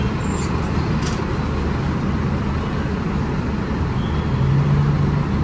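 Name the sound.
dense road traffic in Jakarta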